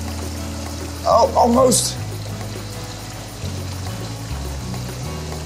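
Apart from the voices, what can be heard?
water pouring down a small waterfall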